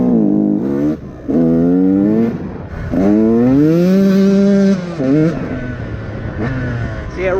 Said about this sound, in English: See, it revs out nice and clean